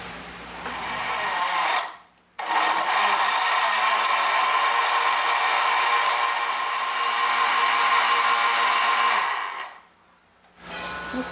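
A kitchen blender runs loud and steady after ice water is added for a vegetable soup, whirring for about eight seconds, stopping briefly, then starting again before stopping near the end.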